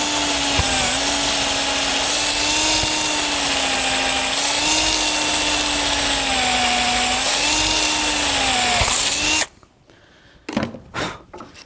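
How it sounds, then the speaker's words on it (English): A brad point drill whines steadily as it bores all the way through wood for about nine seconds, then stops, followed by a few light knocks and clunks. "I'm using a nice little brad point drill here, and I'm going to drill it all the way through"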